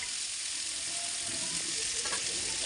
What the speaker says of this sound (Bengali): সুন্দর করে নাড়াচাড়া করে ভেজে নিচ্ছি